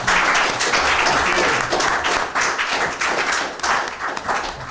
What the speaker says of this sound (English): I'd like everyone to give a big round of applause for her.